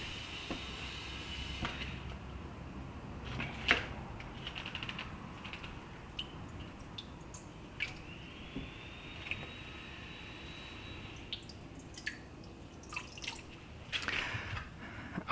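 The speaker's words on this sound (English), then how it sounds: "This is a 5 milliliter medicine dropper, and for each gallon I'm going to drop one of the 5 milliliters." Single drops fall one at a time from a 5 ml medicine dropper into hydroponic nutrient solution, soft, close and faint with quiet clicks in a still room.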